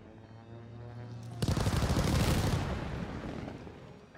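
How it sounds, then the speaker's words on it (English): An incoming allied airstrike in a first-person shooter, a faint tone suddenly broken by a loud, dense burst of rapid explosions and gunfire that rumbles on and gradually fades. "Allied airstrike coming in hot."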